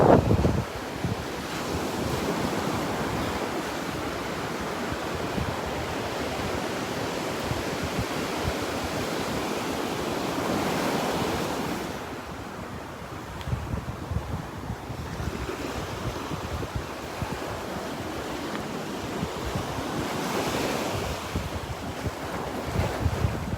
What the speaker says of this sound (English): Feels like that wind's coming out of the north.